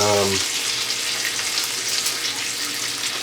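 Bacon strips fry in a pan with a loud, continuous crackling sizzle that holds steady for a few seconds, up close and without talk.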